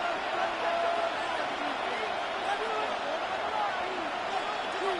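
Roaring football stadium crowd building noise before a third-and-goal play, a dense sustained wash of cheering with a commentator talking over it throughout.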